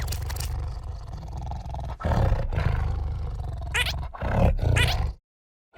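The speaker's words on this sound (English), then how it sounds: "It's an orange tiger." A tiger gives a deep, loud, sustained roar with a few rough pulses, close and alone, ending abruptly in silence.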